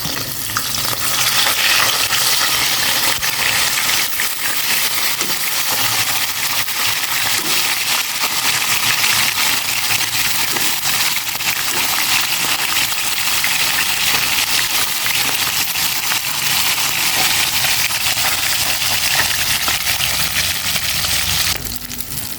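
Continuous loud sizzling and crackling of dalagang bukid fish frying in hot oil, a dense steady hiss with no pauses.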